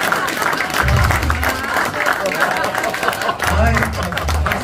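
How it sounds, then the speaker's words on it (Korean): An audience claps at a Heungsadan officers' training gathering, a dense wash of applause filling the room while someone speaks loudly over it. "박수 한번 다시 한번 부탁드립니다."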